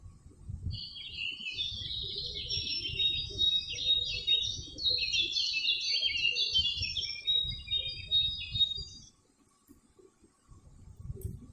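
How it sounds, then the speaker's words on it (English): Lively high-pitched bird chirps and trills sing continuously for several seconds over a low rumbling background, then fade out, leaving quieter rumble. "chirping of birds"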